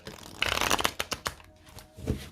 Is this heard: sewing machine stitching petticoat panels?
no